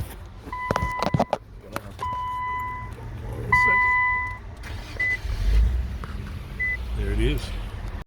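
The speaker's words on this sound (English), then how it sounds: "But the car will start, and I'm gonna shut it off and start it again." A 2018 Infiniti Q50 with a CAN bus network fault being switched off and restarted: dashboard chimes and beeps, clicks and a brief starter crank, then the engine catching and idling low, close by, with a person talking over it.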